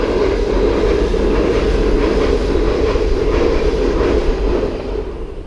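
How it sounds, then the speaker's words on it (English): A train rumbles over a bridge arch overhead near Wellingborough with a deep, steady roar and faint rhythmic clatter, loud and close, beginning to fade at the end. "Train going over."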